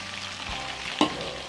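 Chicken coated in egg batter for crispy nest-style Indonesian fried chicken bubbles in hot oil, a steady dense sizzle with a brief louder crackle and stir partway through, close and continuous with no talking.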